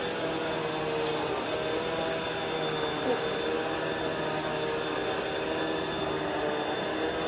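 A Rainbow vacuum cleaner running with its powerhead attached, a constant droning whir with a steady hum, close and unbroken the whole time.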